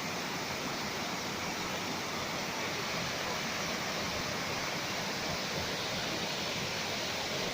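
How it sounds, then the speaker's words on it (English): A constant, dense roar of white water tumbling over a weir in Rouken Glen Park, loud and near, holding steady the whole time with no pauses or talking. "The sound of the white water falling over the weir."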